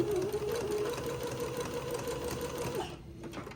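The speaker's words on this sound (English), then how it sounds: "I've got my sewing machine set for a zigzag and the appropriate stitch length and stitch width for sewing entredeaux" A sewing machine runs a steady zigzag stitch attaching entredeaux to a fabric panel, its even mechanical whir and hum continuing for a few seconds before stopping, quiet and close.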